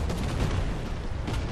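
Artillery fire in a tank battle video game featuring an American M3 Lee medium tank: a dense, rumbling burst of explosive booms, loud and continuous through the short stretch, with no talk.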